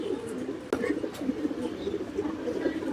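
Soft, repeated cooing from a pigeon held in a person's hand, steady low murmuring calls at close range over faint background hiss.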